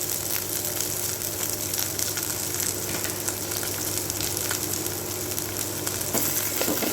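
Curry leaves sizzling in hot oil in a pan for a brinjal gravy, a steady dense crackling hiss with scattered sharper pops, close and continuous from start to finish with no talking.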